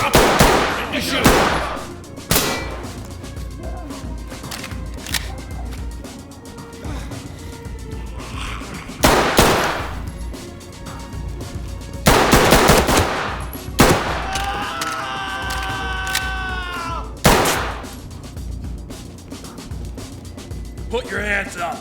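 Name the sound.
shotgun gunfire in Ready Or Not video game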